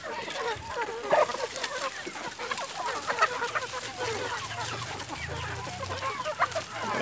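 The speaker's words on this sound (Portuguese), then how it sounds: "essas aqui são as minhas criações de galinha caipira na minha mini chácara 12x30" Free-range hens on a small 12x30 urban smallholding cluck in a steady, busy stream of short calls, fairly close, with a low rumble underneath.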